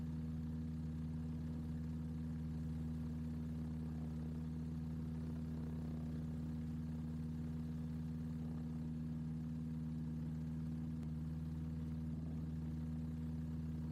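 A Ximango motor glider engine idles steadily on a taxiway with a low, droning hum that holds constant throughout, no voices.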